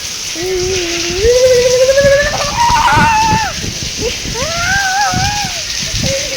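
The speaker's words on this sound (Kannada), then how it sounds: "ಎಷ್ಟು ಮಳೆ, ಎಲ್ಲೋ ಒಂದು ಕಡೆ ನಿಂತಿದ್ದೀವಿ ಆದರೂ ಮಳೆ." Heavy rain pours steadily as a broad, constant wash of noise, with close voices talking loudly over it most of the time.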